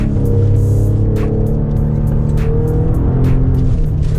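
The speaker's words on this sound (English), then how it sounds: "when you go full throttle on third gear and let go of the gas, that's what it does" A 2015 Maserati Ghibli engine rumbles loudly and continuously up close, its exhaust crackling with sharp pops and bangs over the deep drone after full throttle in third gear is released.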